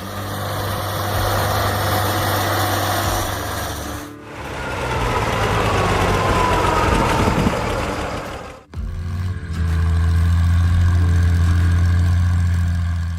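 A Farmall 560 tractor engine running steadily with a low, throbbing hum and mechanical whine, loud and close, briefly dipping twice before resuming its constant drone.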